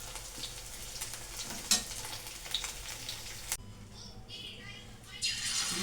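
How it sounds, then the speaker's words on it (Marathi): Paneer 65 fries in a pan with a steady crackling sizzle and occasional stirring clinks, close by, while a person talks over it; the sizzle grows louder toward the end. "लास्टचं पनीर फ्राय चालू आहे"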